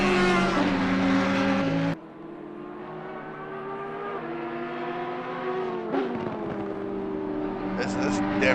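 Race cars howl through the Zandvoort circuit in a sim racing game, a Ferrari among them, engines whining at high pitch with a sharp drop from one car to another, then a steady rising scream as a commentator talks over it.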